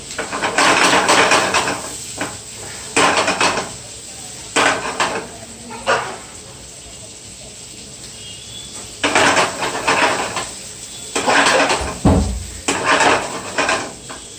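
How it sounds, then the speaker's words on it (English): Garlic prawns fry in a pan, sizzling under repeated bursts of clattering pans and utensils being stirred and scraped, with quieter stretches of steady sizzle between them. "It's still frying."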